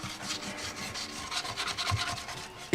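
A motorcycle fairing is being hand-sanded to rough up its surface, giving quick, close, back-and-forth rasping strokes in a steady rhythm that ends on a short knock.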